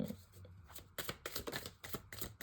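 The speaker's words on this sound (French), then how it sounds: "je pose les cartes" Tarot cards are laid down on a table with a series of crisp slaps and riffling shuffles, close and fairly quiet, in irregular bursts.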